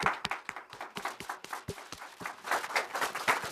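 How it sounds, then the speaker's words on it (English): A small audience claps for a guest speaker at a conference on social security service. The applause is sparse and fairly quiet, with distinct individual claps rather than a dense roar. "Please join me in giving a round of applause to our guest and conferencist"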